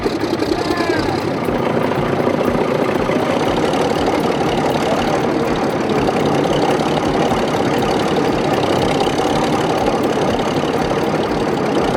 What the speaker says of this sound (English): powered by a 2-cylinder naturally aspirated diesel hydraulic engine, finally roared again